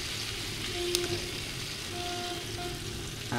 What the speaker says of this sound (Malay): Goreng sampai air tu masak dulu lah.